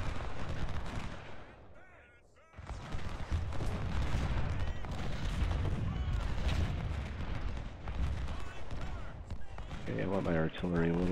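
Civil War battle in Ultimate General Civil War: dense crackling musket volleys and booming artillery, loud and continuous with a short lull, someone talking over the combat near the end.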